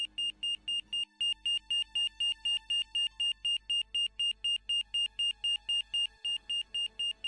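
A hospital alarm in the adventure game Broken Sword signals a cardiac arrest, a piercing electronic beep pulsing rapidly and evenly over several seconds, steady and alone without voices.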